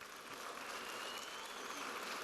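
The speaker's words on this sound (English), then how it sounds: "Keep clapping." A graduation crowd at a community college commencement claps continuously, producing a dense, even wash of many hands at moderate distance with no voices over it.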